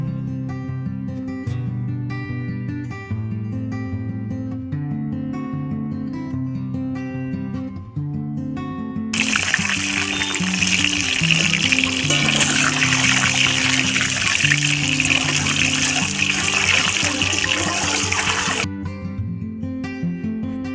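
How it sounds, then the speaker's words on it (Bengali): Boiled eggs fry in hot oil for a spicy Bengali egg curry, a loud, steady sizzle that rises suddenly and lasts about nine seconds beneath background music. "এবার আমি সিদ্ধ ডিমগুলো ভেজে নেব।"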